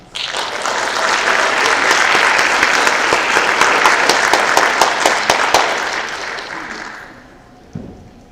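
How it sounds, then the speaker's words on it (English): A large crowd at a high school mid-year graduation ceremony claps loudly and continuously for about seven seconds, the thick applause slowly thinning and fading out near the end. "let's give them one final thunderous applause"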